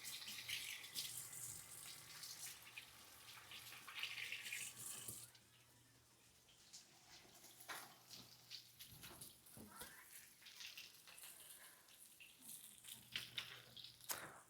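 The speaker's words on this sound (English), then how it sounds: "Water, turn on." Kitchen tap running while making onigiri, a steady hissing stream of water that drops quieter midway and continues with clattering and handling sounds over a low background hum.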